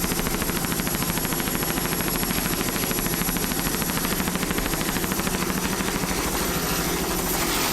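26-foot Checkmate offshore racing boat with a 500 horsepower Mercury inboard, racing at the 1998 Key West world championships: a loud, continuous engine roar with a rapid pulsing throb, sustained throughout with no talk.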